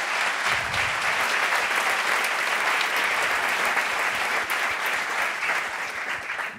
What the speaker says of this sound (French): on va applaudir Didier Massy